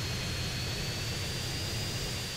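A jet aircraft in Grand Theft Auto: San Andreas roars steadily in its hover or jet mode, a constant loud whooshing engine drone with a thin high whine held through the whole clip and no talking.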